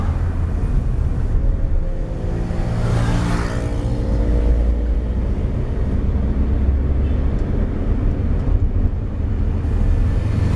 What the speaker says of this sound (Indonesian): Jadi kita bisa naikkan RPM dan langsung oper ke gigi 2.